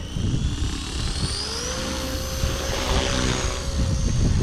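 A Blade Fusion 180 RC helicopter flying outdoors in wind, a steady high rotor whine with shifting pitch and buzzing, fairly close and continuous with wind rumble underneath.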